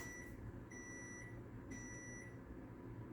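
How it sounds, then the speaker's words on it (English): A kitchen timer beeps in a home kitchen while mayonnaise is being made, giving a few faint, high, sustained electronic tones in quick succession over quiet background noise. "The timer has gone off."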